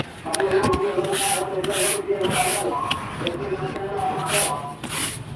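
A stiff brush scrubs heavy dust off a surface at home, giving repeated rubbing, scratchy strokes close by, with someone talking over it.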